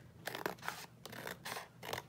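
Scissors trim collage book paper into faux envelope pockets, with about five crisp, close snipping cuts in an uneven rhythm and no talking.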